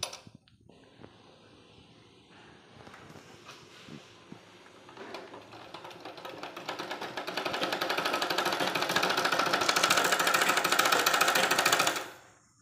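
Sewing machine stitching a blouse, starting with slow, sparse needle strokes and speeding up into a dense, loud, steady whirring rattle before stopping abruptly; close by, with no talking.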